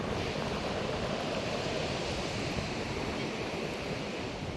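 Waves wash onto a quiet, empty beach as a steady, broad roar of surf mixed with wind buffeting the microphone, continuous and fairly loud without any distinct breaks or voices.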